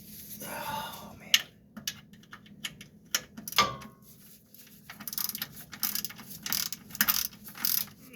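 A hand ratchet clicks in short bursts while bolts are turned on the starter of a 1997 Ford Ranger 2.3L four-cylinder, close and fairly quiet, with irregular pauses and scattered metallic knocks between runs.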